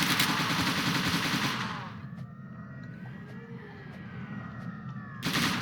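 Rapid AK-47 gunfire from the video game Zombie Tower rattles in a loud continuous burst, stops, then a quieter game soundscape follows before another burst starts at the very end.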